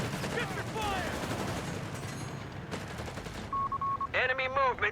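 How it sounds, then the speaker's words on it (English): Bursts of MP40 submachine gun fire in a Company of Heroes 3 desert battle, rapid rattling volleys mixed with other battlefield gunfire and effects, while a voice commentates over the action. "Catching the Jeep here with the MP40s."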